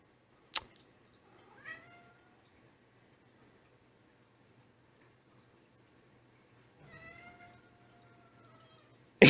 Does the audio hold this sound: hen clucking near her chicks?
no